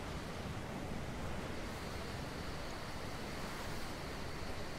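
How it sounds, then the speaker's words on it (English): Steady rushing water from a waterfall in the video game Ark: Survival Evolved, a continuous broadband roar with no breaks, moderately loud and even throughout, with no talking. "Alright, so I've made it to the other waterfall."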